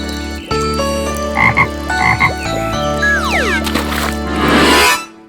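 Cartoon frog croaking in a children's bedtime story: several bouncy, twangy croaks in quick pairs over a bright musical backing, ending in a rising sweep and shimmer.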